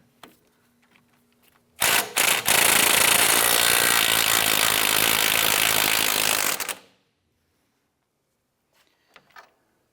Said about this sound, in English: Disconnect your upper sway bar end link from the strut using a 15mm socket.